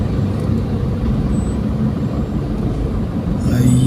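Dense road traffic rumbles continuously, cars and buses passing in a steady broadband roar with engine drone and no distinct gaps, a louder vehicle swelling near the end.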